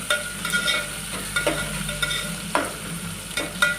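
Chopped tomatoes and onions for vegetable biryani stirred and fried in oil, a close sizzle broken by several sharp scraping strokes of the spoon against the pan.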